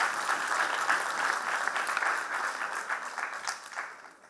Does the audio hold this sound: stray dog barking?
no